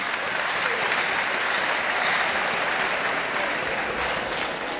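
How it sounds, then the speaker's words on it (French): Audience at a graduation ceremony applauding, a dense, sustained wash of clapping from a large crowd that holds steady for the whole stretch without a break. "Applaudissez pour moi, s'il vous plaît."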